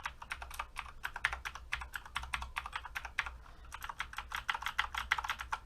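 Steady, clicky typing on a Corsair K70 MK.2 mechanical keyboard with Cherry MX Blue switches, with rapid bright keystrokes in bursts and brief pauses. It sounds close and moderately loud, with no voices.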